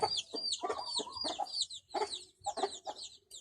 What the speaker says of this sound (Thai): โอ้ไก่ลายสวยนี่ โอ้ไก่ เชื้อดีนะครับนี่